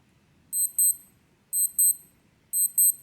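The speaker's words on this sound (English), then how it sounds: "That's a fairly standard Casio sounding alarm there." Casio G-Shock GA-2100 watch alarm beeping: three bursts, each a pair of short high, thin electronic beeps, repeating about once per second, close and clear over a quiet background.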